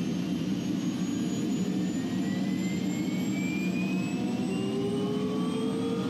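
A Bell 206 helicopter's turbine spools up during engine start, a steady loud whine with rising tones climbing in pitch over a constant rumble as the blades begin turning.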